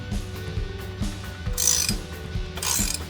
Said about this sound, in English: act as a brake to keep this wrench from turning, so I can turn it from the other side